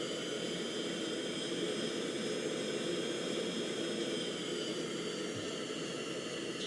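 A fighter jet engine in the flight simulator Falcon BMS 4.38 roars steadily during takeoff on the runway, a loud continuous whine and rumble with no change in pitch throughout.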